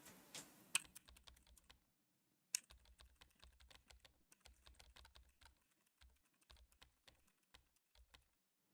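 Keyboard typing to play a chat-based computer game, with quiet, close, irregular key taps in short runs, a brief silence, then steady clicking continuing, with no talk.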